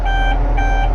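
Two loud, steady electronic alarm beeps with a short gap sound from farm machinery during seed-bed preparation, ringing over a constant low engine hum.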